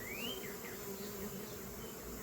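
Honey bees buzzing steadily and close by while being installed into a Flow Hive, a dense continuous drone with a few individual bees whining past.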